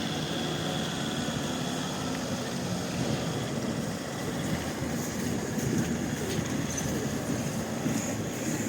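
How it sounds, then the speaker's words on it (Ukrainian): A tourist train rolls in to park at a Christmas festival in Lviv, giving off a steady broad rumble and engine drone that holds evenly throughout, with no talk over it. "Чудо потяг буде паркуватися."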